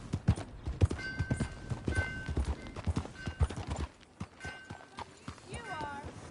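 Horse hooves clip-clop in a steady rhythm nearby, with a short whinny near the end, in the video game Red Dead Redemption 2.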